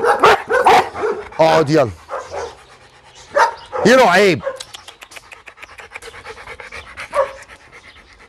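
A large Caucasian shepherd dog on its first day pants heavily and lets out a few barks and whines, close up, while someone speaks to it over the noise.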